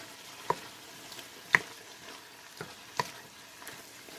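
Garlic being stirred into shrimp gumbo in a pot, faint soft sizzling with a few scattered scraping knocks of a spoon, quiet and close.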